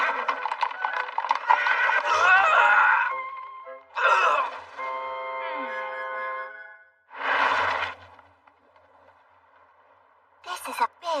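A horse in an anime English dub gives several loud, drawn-out neighs and whinnies in separate bursts with pauses between, and light hoof clatter underneath.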